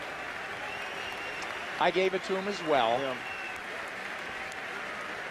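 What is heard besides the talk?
ringside crowd in Switzerland applauding a boxing match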